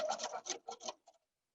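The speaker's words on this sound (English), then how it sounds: "At my machine, I'm just going to run that through at 1/4 of an inch" A sewing machine runs a quilt block seam at a quarter inch, making a short series of rhythmic mechanical stitching bursts, close and moderately loud, that stop abruptly after about a second.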